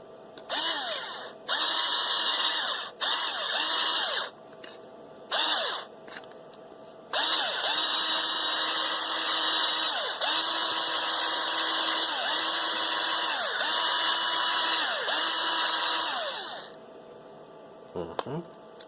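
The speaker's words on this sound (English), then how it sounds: "that's gonna need some drilling." A power drill whirs in repeated bursts, revving up and winding down between runs, then a long continuous stretch of steady drilling into a headphone part, loud and close.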